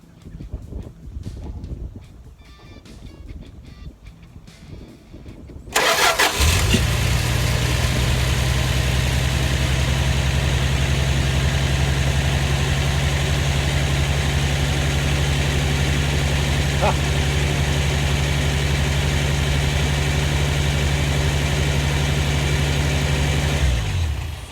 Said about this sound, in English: it's missing because I forgot to put the plug wire back on